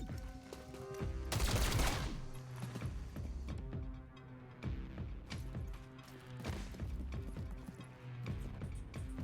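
Gunfire in the XCOM: Chimera Squad video game, a sharp burst of rapid shots near the start followed by repeated punchy impacts and combat effects over a layered game soundtrack.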